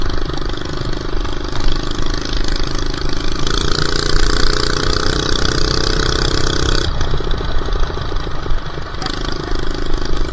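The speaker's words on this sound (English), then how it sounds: "I think it's something with the engine being like 10 years old or something." A roughly ten-year-old minibike engine idles steadily and loudly up close for about ten seconds, its rough mid-pitched putter shifting in tone a couple of times, with no voices.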